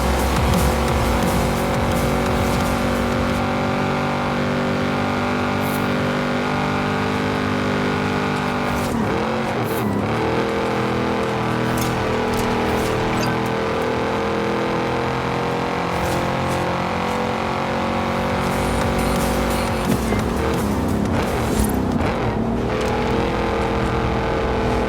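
Engines from cars racing in a video game, including a Nissan GT-R, roar continuously with a steady sustained drone, shifting pitch in a few swells and gear changes, loud and close with no talking.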